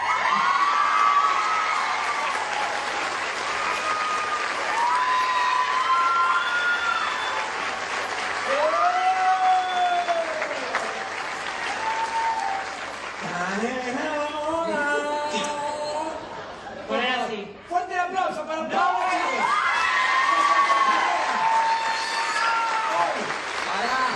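A live stage audience applauds and cheers, with sustained clapping, whoops and shouts from adults and children, and voices calling out over the crowd throughout.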